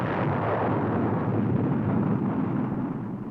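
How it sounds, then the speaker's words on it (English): The Army's Jupiter-C rocket, the missile that orbited the Explorer 1 satellite, launches with a loud sustained rumbling roar that thins slightly toward the end. "the launching of the Army's Jupiter-C missile system that put into orbit the free world's first satellite"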